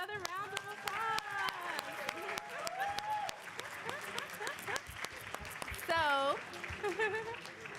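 Scattered audience clapping at a university awards ceremony for challenge winners, with sharp individual claps mixed among cheering voices and chatter around the room.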